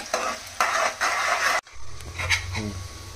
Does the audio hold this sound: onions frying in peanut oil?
yes